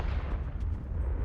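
Confringo spell blast in Hogwarts Legacy: a dense, rumbling low burst that sustains briefly like a muffled explosion, with no speech over it.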